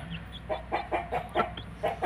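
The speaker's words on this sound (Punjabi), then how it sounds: "ਮੁਰਗੀ ਦੀ ਵੀ ਕੁਆਲਿਟੀ ਚੈੱਕ ਕਰੋ ਬਹੁਤ ਚੰਗੀ ਮੁਰਗੀ ਆ" An Aseel hen clucks in a short series of soft, evenly spaced calls, close by and moderately quiet over faint background noise, with no talking.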